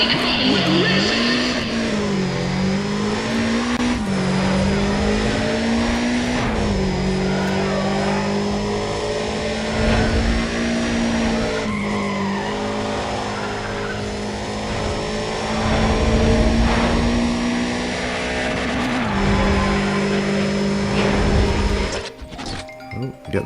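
Race cars in the video game Need for Speed ProStreet roar and rev continuously, engine pitch climbing and dropping through gear shifts, with occasional tire skids and faint background voices, cutting off abruptly near the end.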